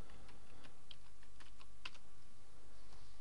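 Keys clatter on a computer keyboard as a filename is typed, a quick, irregular run of light clicks at close range with no voices.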